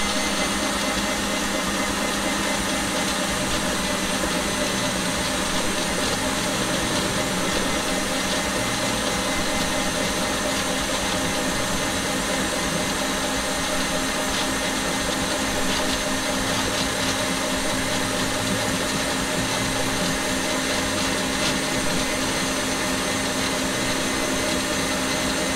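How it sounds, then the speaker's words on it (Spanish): A steady, loud electric mixer motor whirs continuously at full speed while whipping Italian meringue, with no pauses or voices. "Le damos con toda la batidora."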